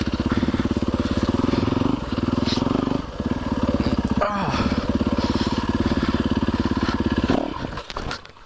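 Enduro dirt bike with a fastway linkage climbing a grade, its engine droning steadily and loud near the rider, with a brief dip and a scrape or clatter midway before the throttle eases off at the end.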